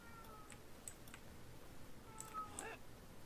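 A house cat gives a few faint, short meows, thin and soft against a low steady background hum, with brief quiet pauses between the calls.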